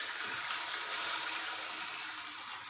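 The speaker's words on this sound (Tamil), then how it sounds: "இப்போ 5 கப் வந்து தண்ணி சேர்த்துக்கலாம்" Five cups of water pour steadily into a cooking pot, splashing without pause in a continuous hissing gush with no talking.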